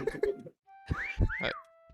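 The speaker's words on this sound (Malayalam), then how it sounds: "പിന്നെ വിസിൽ കേട്ടല്ലോ" Whistle in the video game Meccha Chameleon, with two bright, rising-and-falling whistled notes after a short burst of other game sounds.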